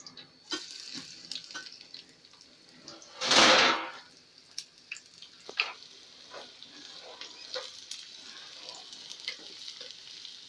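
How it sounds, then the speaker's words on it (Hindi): Onions sizzling and frying in ghee in a pot, the tempering for haleem, with a steady crackle, a loud burst of sizzle as they hit the hot fat, then scattered stirring clinks. "इसके लिए लिया है हमने 1 प्याली घी। अब हम इसमें प्याज डालेंगे।"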